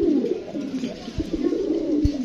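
A male pigeon coos on a pigeon farm, low rolling throaty calls repeating in a continuous rhythm, close and clear with no talking.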